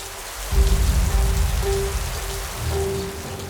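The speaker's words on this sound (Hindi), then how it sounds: "तभी बारिश और तेज हुई और जंगल में बाढ़ आनी शुरू हो गई।" Heavy rain pours steadily in a Hindi children's cartoon as a forest begins to flood, a dense continuous hiss that surges in loudly after a brief quiet start and keeps going with no voices.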